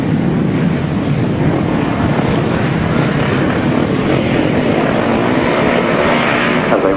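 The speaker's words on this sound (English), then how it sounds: "On the line again then, the revs rising." Grasstrack racing motorcycles rev on the start line at the 1993 Frittenden Flyer grasstrack meeting, a loud, steady, continuous engine roar that stays dense throughout, with no speech.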